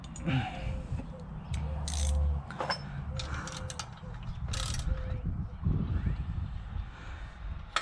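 A hex driver bit drives bolts into a radiator guard on a Yamaha WR250R motorcycle, giving repeated ratcheting clicks and short mechanical whirs close by, with quiet shop background between bursts.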